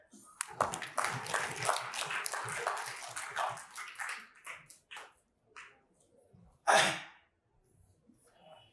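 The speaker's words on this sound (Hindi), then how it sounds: "इस बार पर भी ताली हो जाए।" An audience at a Mahakumbh Mela talk on Ayurveda applauds in a dense burst of clapping for several seconds, which thins to scattered claps. A last short flurry of clapping follows.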